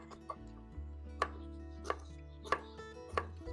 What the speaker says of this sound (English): now let's give these okies a chopping. So we're going to go blocks here.